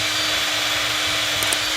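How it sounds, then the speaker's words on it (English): A sandpaper disc on a power tool whirs steadily while lightly polishing a driveshaft part from an articulated dump truck, a close, continuous abrasive hiss with a faint motor hum. "I'm going to run a sandpaper disc like this. Just polish it lightly."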